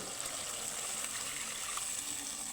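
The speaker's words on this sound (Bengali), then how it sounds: "এখন আমি দিয়ে দিব জল" Water is poured into a pan of fried spice paste for a Bengali vegetarian curry, giving a steady, close rushing hiss that runs unbroken for the whole short stretch.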